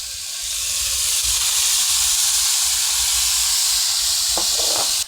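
White wine poured onto diced beef tenderloin searing in a hot pan bursts into a loud, steady, close hiss of steam and sizzle that holds for several seconds, with a few brief knocks near the end.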